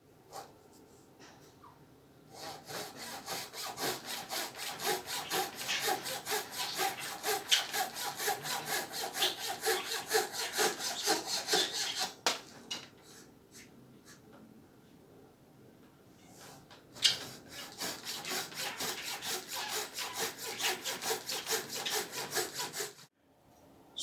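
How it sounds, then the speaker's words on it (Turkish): Fret saw cutting small wooden sticks into short pieces, a fast steady rasping back-and-forth sawing that runs loud and close for about ten seconds, pauses briefly, then resumes until an abrupt stop. "Kıl testere yardımı ile tek tek hepsini 2'şer santim kestikten sonra"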